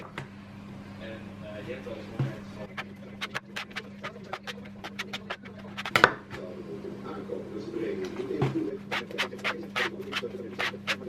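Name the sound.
mixing donut dough with added vegetable oil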